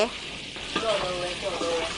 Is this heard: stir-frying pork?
yes